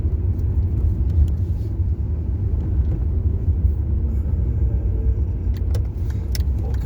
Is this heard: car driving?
yes